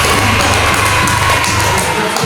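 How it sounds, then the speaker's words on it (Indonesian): A classroom of students breaks into dense, continuous applause and cheering for group 3, loud and close throughout. "Berikan tepuk tangan untuk kelompok 3."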